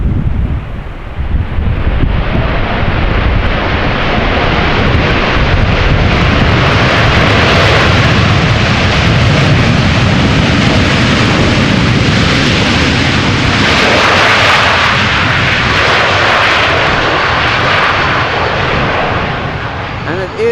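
An Aeromexico Boeing 787 Dreamliner lands at Amsterdam Schiphol in gusty crosswinds and applies reverse thrust, producing a loud, sustained jet roar that surges mid-way, heavily mixed with wind buffeting on the microphone.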